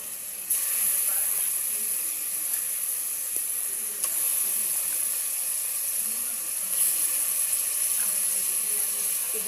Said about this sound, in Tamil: இப்போது நம்ம கறியை போட போகிறோம்.